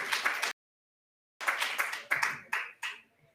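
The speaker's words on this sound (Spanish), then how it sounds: "Un aplauso para los que respondieron bien." A small audience at a medical lecture on inflammatory bowel disease gives short, sparse rounds of clapping, a brief burst, a pause, then several quick fading bursts of handclaps close by.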